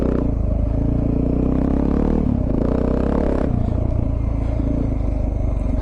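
A Suzuki DR650 motorcycle is ridden close by, its engine thumping and revving continuously with rattles and clatter from the bike over rough ground, no talk.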